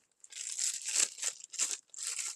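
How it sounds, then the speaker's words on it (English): Cheap plastic bags crinkle and rustle in a kitchen while royal icing is being made, in four bursts of crisp crackling separated by short pauses, close and fairly soft, with no talking. "I've got those cheap plastic bags."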